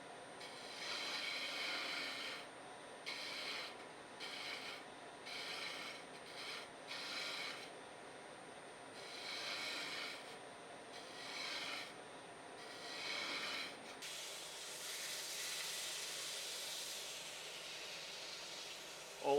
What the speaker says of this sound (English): Here I'm using a skew to smooth the handle out.